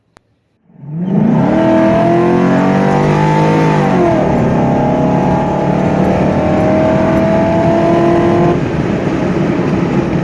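An LS-swapped OBS Chevrolet Silverado pickup with a new exhaust starts up and accelerates hard, its deep roar climbing in pitch and staying loud and steady for several seconds, with no talking.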